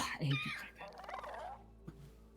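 A bird in the video game Dragon Age: The Veilguard lets out a gobbling squawk, fairly faint and mixed with in-game voices talking.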